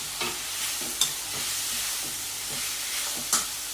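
Spices and masala roasting in a pan for egg biryani, a soft continuous sizzle broken by a few light scraping stirs and clinks of a utensil, close up, with no talking.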